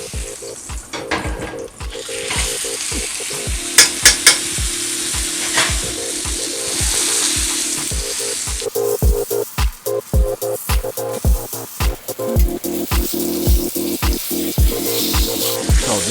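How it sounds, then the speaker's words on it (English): Fat cap of a ribeye (côte de boeuf) renders in oil in a hot pan, producing a loud, continuous close sizzle and crackle with frequent sharp pops and spatters and no voices. "So first I'm gonna start on this fat cap just to render it."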